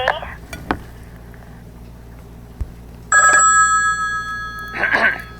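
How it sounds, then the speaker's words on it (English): A comical telephone ringtone chimes in short bright bursts, a sustained electronic tone followed by a warbling ring, after scattered faint kitchen clatter. "Your telephone is ringing."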